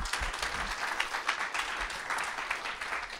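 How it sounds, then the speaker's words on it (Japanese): Audience applause fills a Japanese business seminar hall after a guest talk, a dense, steady wash of many hands clapping throughout, moderately distant and fairly soft. "もう一度大きな拍手でお願いします"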